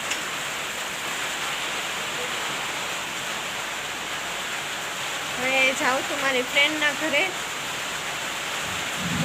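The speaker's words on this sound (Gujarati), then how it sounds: "આમ તો વરસાદ શરૂ થઈ ગયો છે" Steady rain falls in a continuous hiss throughout, with someone speaking briefly over it partway through.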